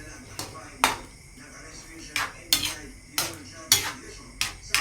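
Stirring food in a pot, a spoon knocking and scraping the metal in a loose irregular rhythm of sharp clanks, close and fairly loud over a low background hum.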